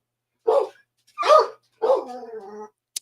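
A dog barks three times close by, with short gaps between, the last bark trailing off into a drawn-out whine.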